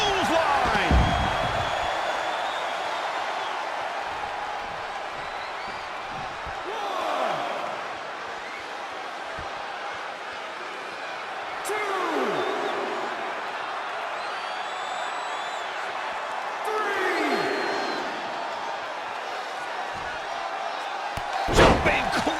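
Several heavy thuds of wrestlers slamming onto the mat in WWE 2K20 land over a steady arena crowd roar, with commentators talking throughout.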